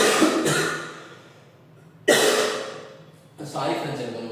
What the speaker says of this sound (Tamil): இருமல் வந்துட்டே இருக்கு